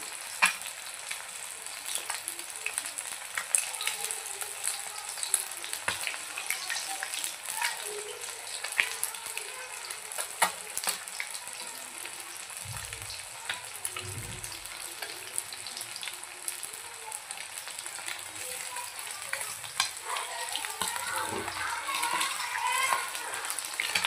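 Chilapi fish fries in hot oil in a pan, giving a steady, moderately quiet sizzle and crackle throughout with occasional spatters and soft handling sounds.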